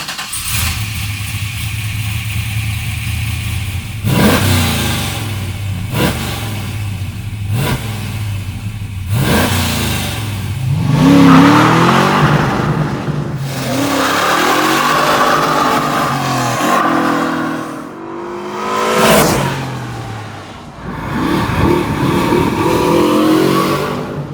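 An LS-swapped 1970 Chevelle sleeper drives while its engine is revved hard, with several loud, close throttle blips and surging climbs in pitch. No one talks.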